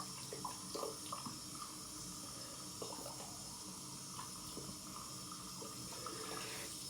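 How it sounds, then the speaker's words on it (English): Water runs steadily from a tap into a sink for a rinse after shaving, a continuous close splashing stream with small clinks and shifts, no voices. "So hot water or warm water rinse followed by cold water rinse."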